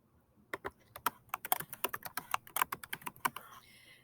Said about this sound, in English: So we're going to type North Dakota.